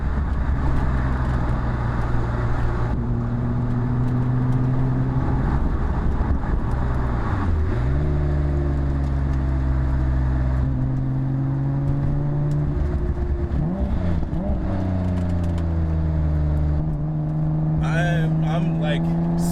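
A Nissan Skyline GT-R drives with a steady engine drone whose pitch rises and falls through gear changes, close and continuous, while a person talks over it.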